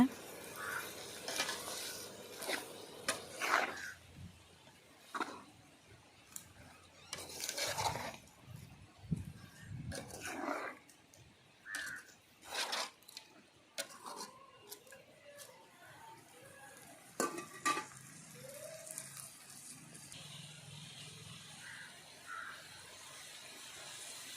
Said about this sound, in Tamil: நுரையீரல் அது ஃபுல்லாகவே இதை சேர்த்து கிண்டிக்கோங்க